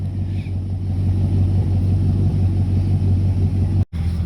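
A 1982 Chevy Silverado truck engine idles steadily nearby, a low continuous rumble with a strong, even hum and a brief dropout near the end.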